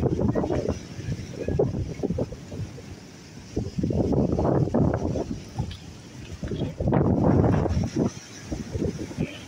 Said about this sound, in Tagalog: Siyempre, dagat ito.